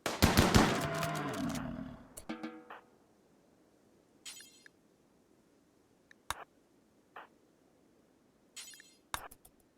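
A muffalo creature in a video game gives a few short grunting calls, separated by quiet gaps, after a dense burst of rapid minigun fire at the start.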